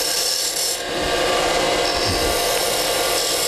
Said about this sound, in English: put my gouge in there, and make one more because I didn't quite get that out of the way